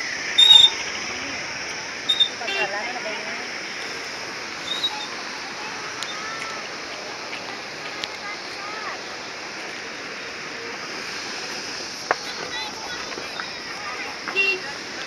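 Flowing water of the Tadi river near Dupcheswor Mahadev temple in Nuwakot, Nepal, a steady broadband rush running the whole time at moderate distance, with occasional bird calls and brief louder knocks.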